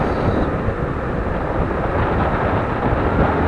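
Thunder rumbles over a highway drive, a loud, continuous low roar blended with road and vehicle noise, steady throughout without speech.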